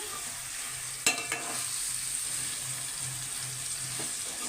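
Fish pieces being gently stirred into a frying curry paste in a pan, with a low continuous sizzle, a sharp utensil knock near the start and a few softer scrapes.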